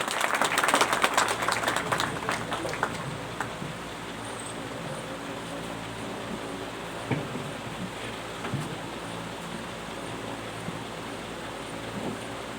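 Applause from the crowd at an Aam Aadmi Party meeting is loud and dense at first, then thins into lighter, steady clapping that carries on for several seconds.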